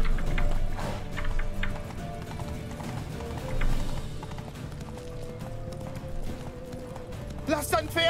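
Horse hooves clip-clop in The Witcher 3 game, a steady trotting rhythm under ongoing game music and effects, with a voice talking over parts of it.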